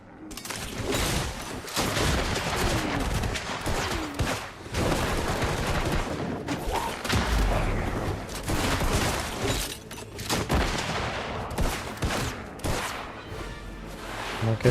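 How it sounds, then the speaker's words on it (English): Rocket launcher fire and explosions in the online game Black Desert, a dense, continuous barrage of booming blasts and crackling impacts over a busy combat backdrop, loud and sustained with repeated heavy bursts. "Look. Rocket launcher."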